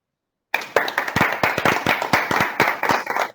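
Audience applause closing a World Fish Migration Day event, with dense, steady clapping from many hands starting abruptly and carrying on at full strength throughout.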